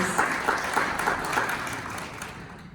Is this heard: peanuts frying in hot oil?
no